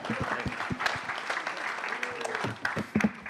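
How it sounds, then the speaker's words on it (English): A crowd at a startup demo night in San Francisco applauds a presenter: uneven clapping of moderate loudness, with voices talking through and over it. "Round of applause for Giga AI."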